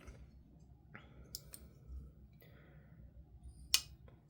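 A new folding knife opens and closes in a quiet room, giving a handful of sharp, isolated metallic clicks and snaps at irregular spacing, each crisp and close by.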